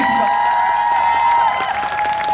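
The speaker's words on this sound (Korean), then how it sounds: "큰 박수 부탁드리겠습니다." An outdoor mini concert audience for the musical Swag Age at Marronnier claps and cheers for the creators as they come on stage. The crowd noise is steady and sits under sustained music tones.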